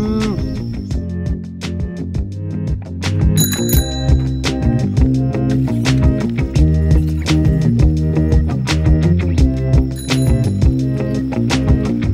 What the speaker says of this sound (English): Got ourselves a fixed gear bike with a basket on the front and custom bell.